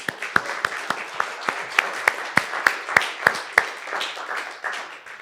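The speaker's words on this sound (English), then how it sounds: "Let's give a round of applause to the musicians" An audience applauds musicians after a drumming performance, a moderate crowd clapping with distinct individual hand claps popping out of the steady patter before it gradually thins.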